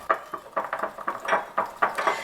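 Food-grade baking soda being mixed for homemade toothpaste, with a utensil scraping and tapping in a small container in steady repeated strokes, close and clear with no talk.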